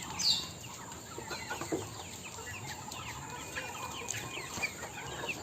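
Chickens near a banana grove give off soft, scattered clucks and short calls over a steady outdoor background, some close and some farther off, with no voices.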